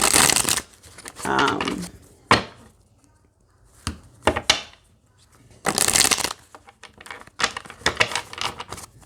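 Tarot cards being shuffled by hand, several bursts of crisp riffling and flapping separated by short pauses, close and fairly loud, with no talking.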